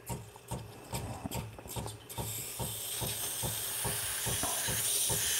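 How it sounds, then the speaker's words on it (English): The steam wand of a Breville Barista Pro espresso machine first sputters in a quick series of clicks and pops, then settles into a steady, loud hiss that holds to the end. "Okay, matter of seconds, you can start doing this steam. Look at that. Steaming powers are pretty impressive."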